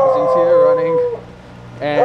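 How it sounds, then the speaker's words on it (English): A neighbor's dog howls in long, wavering tones that rise and fall, loud and fairly near, pausing briefly before another howl starts, heard outdoors during a snowstorm near running heat pumps. "you're hearing my neighbor's dog howling at me"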